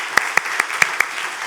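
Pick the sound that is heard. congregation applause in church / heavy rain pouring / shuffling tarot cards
congregation applause in church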